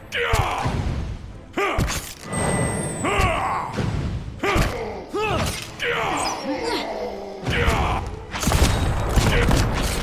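Cannons firing in a battle in the Pillars of Eternity video game, with repeated heavy booms and crashing impacts one after another over ten seconds, loud, mixed with other battle noise.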